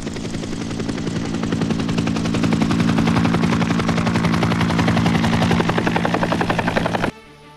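A helicopter's rotor thumps rapidly and steadily, loud and near, with a droning engine hum underneath, then cuts off abruptly at the end.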